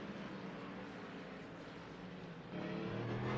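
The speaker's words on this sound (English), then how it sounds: "the engine note of the Mustang to me sounds forced and too aggressive" A Ford Mustang GT3 race car engine in an iRacing GT3 endurance race, a steady dense droning roar that grows louder near the end, with no voices.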